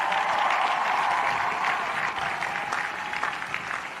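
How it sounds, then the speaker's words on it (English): A large graduation crowd at the University of Houston applauds parents and families, a dense, steady wash of many hands clapping at once that holds for several seconds with no pause. "Let's give the parents and the families a big hand of applause."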